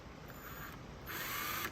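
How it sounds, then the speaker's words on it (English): A drill bores a rivet hole in a thin copper lid, a short mechanical whir that rises to a brighter, louder grind partway through, close and alone. "I always drill this first and then measure into the body."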